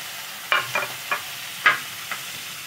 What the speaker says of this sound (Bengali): এবার পেঁয়াজগুলো আমি ভাজতে বসিয়েছি।